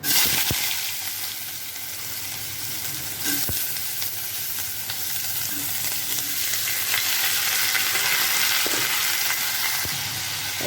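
Chopped vegetables fry in a small amount of oil in a home kitchen pan, producing a continuous close crackling sizzle with occasional light taps and clicks, and no one speaking.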